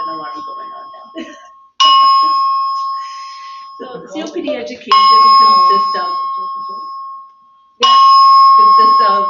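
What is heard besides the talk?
alarm going off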